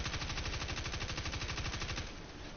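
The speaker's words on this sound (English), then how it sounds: "let's also test out this submachine gun," Rapid automatic fire from a submachine gun in the video game Destiny 2, a dense, continuous stream of close, loud shots that eases slightly near the end.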